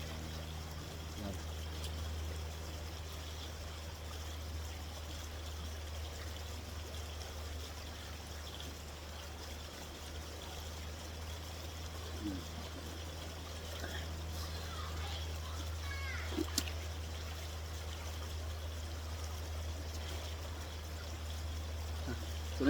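A riverside stream in the Philippine countryside flows in a faint, steady wash, with a low hum underneath and soft voices drifting in now and then.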